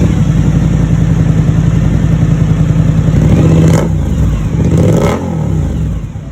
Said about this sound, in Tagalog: At unang muffler na itetest natin ay itong V-Lane R9.